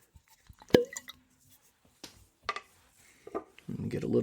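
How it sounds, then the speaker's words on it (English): A sharp hollow pop rings out early as a cork leaves a bottle of Cock of the Walk bourbon, followed by scattered small clinks and handling noises, then a soft pour. "let me pop this bottle open"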